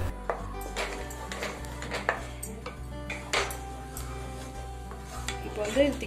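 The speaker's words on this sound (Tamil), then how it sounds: "இப்போ வந்து இது ஒரு panல ஆட் பண்ணிட்டு இது குக் பண்ணிக்கிறேன்." A spoon scrapes and stirs a thickening pineapple custard mixture cooking in a pan, steady rubbing strokes with light metallic clinks and a faint sizzle underneath, close and continuous.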